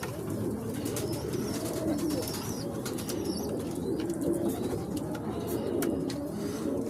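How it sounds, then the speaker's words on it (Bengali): Bearded pigeons coo steadily at close range, low rolling calls repeating over a constant bed of loft noise, with occasional wing flaps and faint chirps from other birds. "দাড়ি পায়রা আছে এটা"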